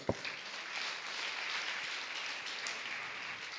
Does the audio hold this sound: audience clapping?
yes